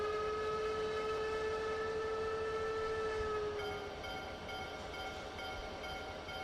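A locomotive whistle in the train simulator game Trainz Simulator 3 sounds as one long steady multi-tone blast lasting several seconds before cutting off, leaving a quieter rail rumble.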